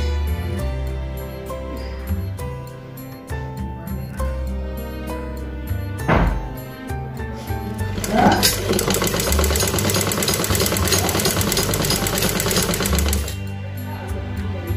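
A sewing machine stitching a new saree border, a fast mechanical whir that rises in a sustained run after a quieter start, with music or background tones underneath and no speech.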